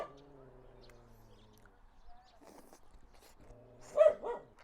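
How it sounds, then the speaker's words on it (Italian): A guard dog watching over sheep in the rural countryside of northwest China barks in a short burst near the end, loud and fairly close, after a quieter stretch of low hum and faint scattered sounds. "No, non abbaia a me, tranquilla, abbaia a un'altra persona che è qui vicino."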